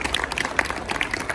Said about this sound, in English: probably the loudest round of applause for Padma Shri Hariharan ji